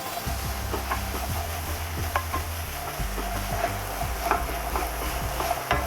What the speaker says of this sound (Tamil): இப்போ எல்லாம் சேர்த்து ஒன்றா கலரி விட்டுக்கோங்க.